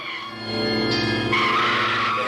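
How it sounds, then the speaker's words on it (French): A car brakes hard with a loud, rising tire screech that holds and grows harsher toward the end, close and sustained. "c'est une voiture qui freine."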